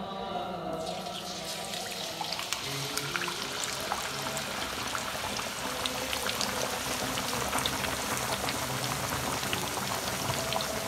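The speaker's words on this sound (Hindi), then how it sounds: "नाज़रीन अब इसको हम कढ़ाई में डालेंगे बिस्मिल्लाह पढ़ के" Chicken pieces for a Dabu Charga-style fry hit hot oil in a kadai with a loud, steady crackling sizzle that starts abruptly and continues densely throughout, with no talking.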